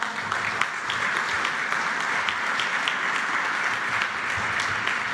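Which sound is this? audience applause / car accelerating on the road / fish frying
audience applause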